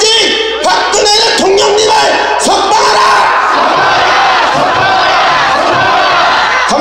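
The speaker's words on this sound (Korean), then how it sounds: "여러분의 함성이 문재인을 벌벌 떨게 만들고 있습니다" A large crowd roars and chants loudly and continuously at a nighttime political rally outside the Blue House presidential residence in Seoul, with massed voices shouting in unison and swelling cheers close by.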